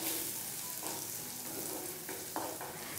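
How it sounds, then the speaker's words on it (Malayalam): Tomatoes sautéing in a pan for a Kerala-style sardine curry: soft, steady sizzling with a few brief stirring scrapes, close and fairly quiet, no speech. "തക്കാളിയും ചേർത്ത് കൊടുത്തിട്ട് വീണ്ടും നല്ലതുപോലെ ഒന്ന് വഴറ്റി കൊടുക്കണം"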